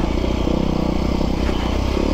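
Dirt bike engines, a 2005 Honda CRF 450X and a 2021 KTM 300 two-stroke, run steadily on an uphill trail on Redonda Ridge, a continuous loud, close mechanical drone with rattling clatter and no voices.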